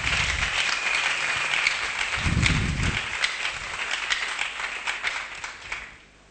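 A church congregation bursts into applause, dense rapid clapping that holds steady for several seconds before tapering off, with a low rumble of voices mixed in.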